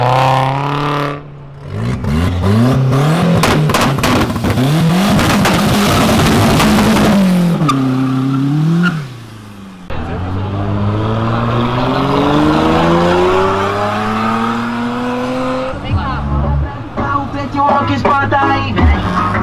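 A car engine revs hard and loud, its pitch climbing and dropping in repeated surges, then settling into a throaty sustained roar.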